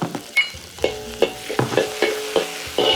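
Scallion and ginger sizzle in a wok still greasy from scrambled eggs, a quiet crackle punctuated by about seven distinct clinks and scrapes of a spatula tossing the aromatics, without speech.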